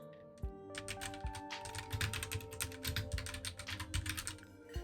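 Rapid, steady keyboard typing on a computer, clicking keys in dense bursts over a low background of music or game sound, with no talking.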